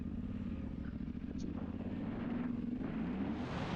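A 2025 Yamaha Ténéré Rally motorcycle cruising at about 90 km/h, with a continuous low engine drone beneath heavy rushing wind noise, steady and loud throughout.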